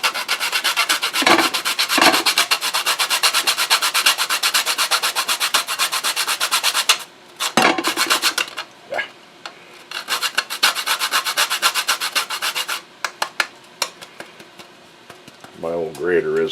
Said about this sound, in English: My old grater isn't the best,